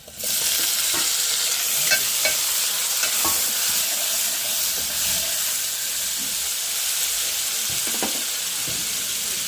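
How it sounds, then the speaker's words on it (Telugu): Onions, green chillies and chopped tomato sizzle steadily in a hot pan, with a spoon scraping and stirring through them in irregular clinks and scrapes, close and fairly loud, with no talking. "ఇంకా ఉల్లిపాయ పచ్చిమిరకాయ అయితే వేసుకున్నాం కదా, ఇంకా బాగా వేగినాయి"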